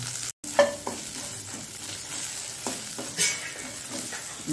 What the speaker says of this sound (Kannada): ಮತ್ತು ಕೊತ್ತಂಬರಿ, ಜೀರಾ ಹಾಗೂ ಸಾಸಿವೆ ಇಷ್ಟನ್ನು ನಾವು ಸ್ವಲ್ಪ ಫ್ರೈ ಮಾಡ್ಕೊಳ್ಳೋಣ.